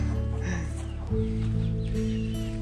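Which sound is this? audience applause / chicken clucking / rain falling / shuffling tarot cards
chicken clucking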